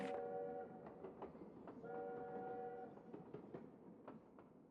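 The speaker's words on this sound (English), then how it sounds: "some record players started hearing some train noises in the rec center" A train in the Rec Room video game rumbles and clatters along steadily, with a horn sounding in long tonal blasts over the rolling noise. The sound is moderately distant.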